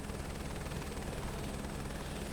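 Steady, dense rotor and turbine roar of a helicopter in Microsoft Flight Simulator 2024, loud and continuous with no talk over it.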